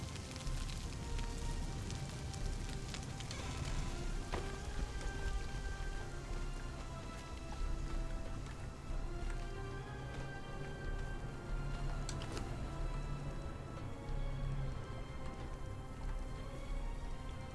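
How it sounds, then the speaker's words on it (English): Rain falling steadily in the video game Conan Exiles, a dense, continuous patter of drops on surfaces with occasional sharper taps, even and close throughout with no talking. "Of course, it's going to rain on my head."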